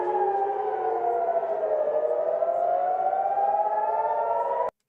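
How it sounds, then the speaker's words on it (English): Air raid sirens in Haifa wail loudly together, their overlapping tones slowly sliding down and back up in a sustained howl before stopping abruptly. "here's the footage, the short footage of the air raid sirens in Haifa"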